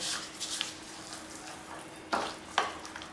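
Neyyappam batter being stirred in a bowl, a few soft wet swishes with two sharper scraping strokes near the end, close and fairly quiet with no talk.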